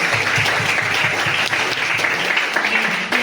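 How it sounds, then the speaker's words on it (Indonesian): A classroom of students claps together in loud, dense applause that fills the room from start to finish. "Kasih aplaus untuk kita semua."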